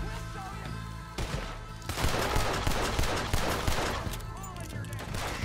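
Gunfire in Red Dead Redemption 2 cracks out as a dense, continuous volley of shots over the game soundscape, loud and sustained for most of the few seconds.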